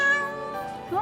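A cat shut in a carrier bag on the way to the vet lets out close, whiny meows: one drawn-out complaining cry, then a short rising meow just after it.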